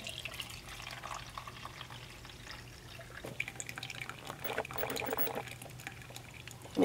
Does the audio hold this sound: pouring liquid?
yes